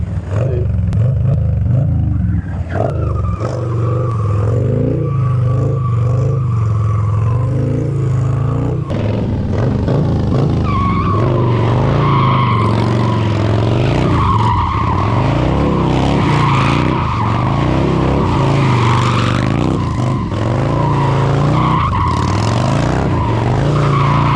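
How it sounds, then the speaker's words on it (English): A stunt motorcycle fitted with a Fueling 525 cam drifting, its engine droning loudly and steadily while the rear tyre skids and squeals in long wavering bursts, close up and dominant throughout. "Easier to kind of feather the throttle on a drift too."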